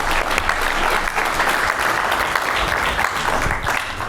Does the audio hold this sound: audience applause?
yes